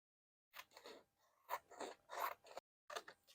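Scissors snip through vintage Christmas wrapping paper in a few short, quiet cuts, with brief pauses between them.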